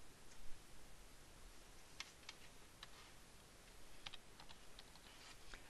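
Typing on a computer keyboard, a steady run of quiet close key clicks with a few sharper taps over low background hiss, no voices.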